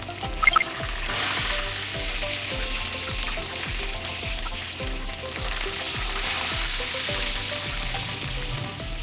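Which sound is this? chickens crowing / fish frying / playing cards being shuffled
fish frying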